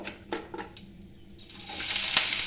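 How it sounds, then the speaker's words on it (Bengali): Okra frying in hot oil: a few soft clinks and stirs, then a sizzle that swells and stays loud and steady toward the end, with no talking. "এবারে ভেন্ডিগুলো একটু ভেজে নেব"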